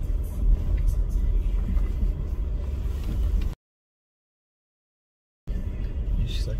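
A car driving along a road toward a lake at a small inn in Monte Verde, with steady engine rumble and road noise from inside the vehicle, cut by a short gap of silence partway through.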